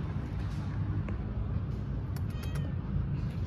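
A black cat meows outdoors near barbed wire and trees, a few short calls over a steady low rumble of road traffic.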